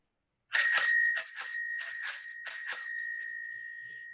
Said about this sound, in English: I got a bell for my bike for Christmas